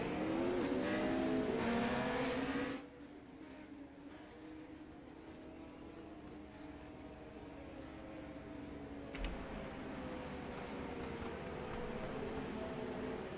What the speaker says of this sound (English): All the drivers for Heat 1 have taken to the grid. They start to roll out.